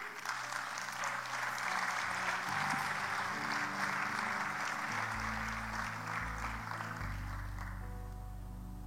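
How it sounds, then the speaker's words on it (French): A church congregation applauds continuously at a worship service. The clapping is loud, dense and sustained, and low music or organ tones run beneath it. "Acclame, acclame bien."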